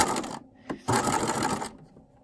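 Sewing machine edge-stitching close along fabric for a basic pincushion, with a backstitch: close, steady bursts of rapid stitching broken by a short pause and a brief clunk.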